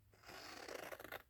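Scissors snip through a paper journal card at close range, a continuous crisp cutting and rustling that builds and pulses briefly before stopping.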